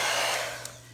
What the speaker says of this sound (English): We're going to blow this puppy out with the hairdryer.